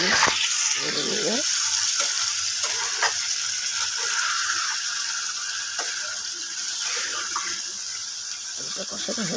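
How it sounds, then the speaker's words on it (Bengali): Potatoes and spice masala for ghugni sizzle in a pan with water added, a steady bright hiss scattered with small crackles and pops. "আলুটা কষানো হয়ে গেছে, জল দিয়ে একটু সিদ্ধ হয়ে করে কষিয়ে নিলাম"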